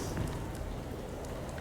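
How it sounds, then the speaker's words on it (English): Rain patters steadily in the video game Alone in the Dark, a soft continuous hiss of drops on surfaces with faint scattered ticks, quiet and even throughout. "Oh, it's raining."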